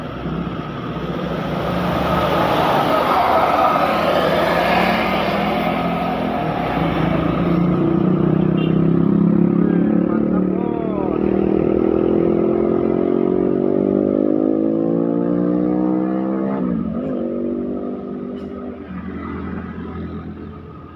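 Heavy trucks, including Giga and tanker-type units, pass through a road bend in southern Tasikmalaya, West Java, their engines rumbling loud and close as they rise and fade over about twenty seconds, with no talk.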